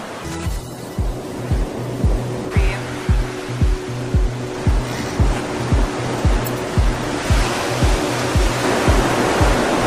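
Waves washing onto a beach on St. Barth, a continuous loud rushing surf with a regular low thumping pulse running underneath throughout.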